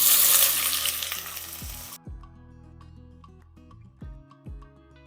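Cumin, pepper, curry leaves and small onions frying in oil, a loud sizzle that cuts off abruptly, followed by sparse taps and clinks of a spoon against the pan.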